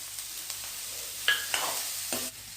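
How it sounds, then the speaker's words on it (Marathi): Val bean pods and boiled, peeled potato being stirred into a sautéing pan, with soft sizzling under a few clear scrapes and clinks of the spoon against the pan, close by. "याच्यात ह्या वालाच्या शेंगा टाकून घेऊ"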